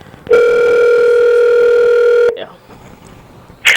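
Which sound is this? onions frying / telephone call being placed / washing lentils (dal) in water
telephone call being placed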